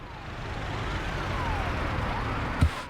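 An ambulance siren wails through heavy traffic in the city-building game Workers & Resources: Soviet Republic, its rising and falling tone steady over a low rumble of cars, with a brief thump near the end.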